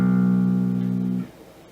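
A guitar plays the final four notes of a song's intro riff, a clear sustained tone ringing close and loud for over a second before it is cut off, leaving only a faint tail.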